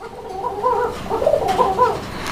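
Pigeons kept for sale coo in a repeated throaty, gargling run of calls, fairly close and steady, with no talk over them.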